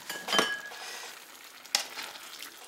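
A spoon stirs shepherd's pie filling in a pan after a splash of sherry and bouillon, making a soft sizzle with a couple of sharp scraping strokes.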